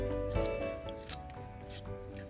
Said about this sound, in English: So you always want to cut like little ribbons of the wood out of them.